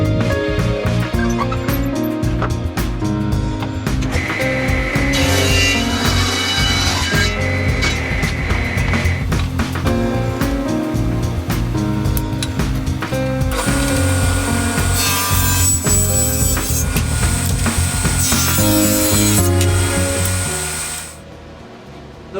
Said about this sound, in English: I'm going to mill all of this stock to its proper width and thickness